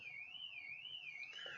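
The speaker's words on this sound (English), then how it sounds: "There's a car alarm on outside." A car alarm sounding outside: a steady warbling siren tone that sweeps slowly up and down, faint and distant, heard alone with no talk.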